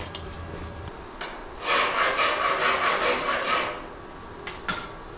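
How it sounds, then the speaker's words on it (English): A hand file rasps along the edge of a stick welding rod, giving a steady burst of scraping strokes in the middle with brief scrapes before and after, close and fairly loud. "I've filed the edge of this just enough to clean it up so that I can start the arc"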